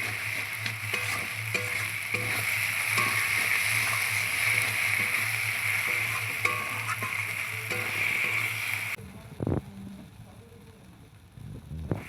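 Mutton sautéing in a pan with tomato, turmeric and spices, a steady close sizzle and hiss for most of the stretch, then quieting sharply into faint stirring sounds.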